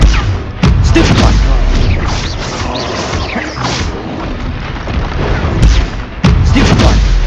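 Spell combat in the Hogwarts Legacy video game: loud, dense booming blasts and crashing impacts that repeat with sharp bursts near 0.6, 5.6 and 6.3 seconds over continuous rumbling battle noise.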